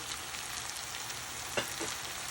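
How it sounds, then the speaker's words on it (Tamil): Onions sautéing in a pan for a sweet onion seeni sambal, a steady soft sizzle with a couple of brief stirring scrapes near the end. "அரை வதங்கள் வெங்காயம் வதங்கினா போதும்"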